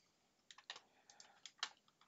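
A computer mouse being right-clicked gives a handful of faint, sharp clicks spaced irregularly over about two seconds in a quiet room, with no talking.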